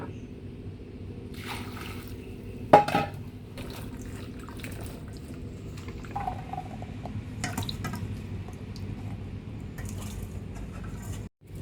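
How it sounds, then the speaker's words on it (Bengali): Taro stolons are rinsed in water at a sink, with quiet splashes, drips and squishy handling. A sharp knock rings out near the start, and no one speaks. "এবার কচুর লতিগুলো ধুয়ে নেওয়া হবে।"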